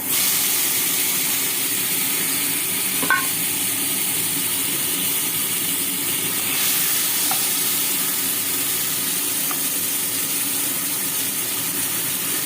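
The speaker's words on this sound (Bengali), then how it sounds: "এবার আমি চিংড়ি মাছগুলো দিয়ে দেবো।" Prawns frying in a pan of oil, a steady close sizzle and hiss running throughout with a few faint clinks, no voices.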